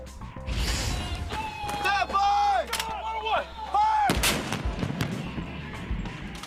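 Marine howitzers fire live rounds during a live-fire exercise, with booming blasts cutting through, while people talk loudly over the shots and a radio-like voice chatters throughout.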